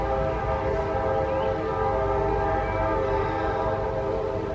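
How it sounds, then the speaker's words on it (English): A train passing on tracks close to a home, a loud steady rumble of rolling railcars with a sustained drone and faint horn tones, continuous throughout. "There's the train."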